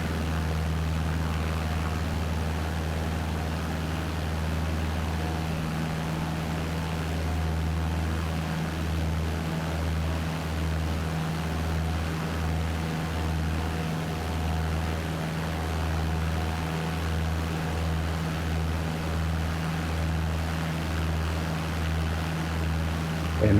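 A propeller light aircraft climbs after takeoff in Microsoft Flight Simulator 2020, its engine a steady, loud drone with a low throbbing pulse that holds evenly throughout.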